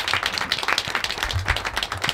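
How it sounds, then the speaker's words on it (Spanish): Audience applause on the final episode of a television show, lively overlapping claps at moderate loudness with a few sharper individual hits standing out. "Un aplauso grande."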